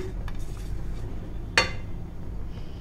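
A utensil clinks once, sharp and close, against a plate as freshly cooked jaggery idiyappam is moved onto it in a home kitchen, amid a low steady background hum.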